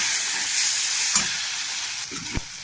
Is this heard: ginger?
yes